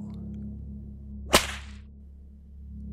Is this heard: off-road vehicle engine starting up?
no